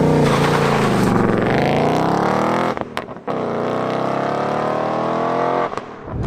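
A 2019 Ford Mustang Bullitt roars loudly and close as it accelerates, its engine note climbing steadily before brief breaks for gear changes, then rising again.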